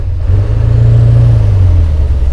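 A 1000 hp KAMAZ truck engine roars loudly and close, holding a heavy, steady drone with a slight rise in pitch as it accelerates.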